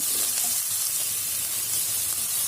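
Finely chopped large onion sautéing in a pan for a soya chunks kurma, a dense, even sizzle of frying heard close and continuous without pauses.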